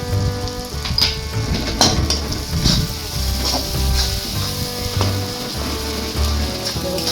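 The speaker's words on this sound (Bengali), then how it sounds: "মশলাটা বেশ ভাজা ভাজা হয়ে গেছে" A spice mixture frying in a pan for a potato dish, a close, steady sizzle with popping crackles and occasional stirring knocks running throughout, no voices.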